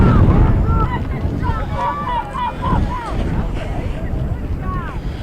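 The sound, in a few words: wind howling against the camera microphone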